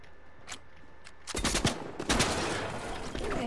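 Gunfire in the Fortnite video game, a rapid, dense burst of automatic shots starting after a quieter stretch with a few faint pops, then loud and sustained to the end.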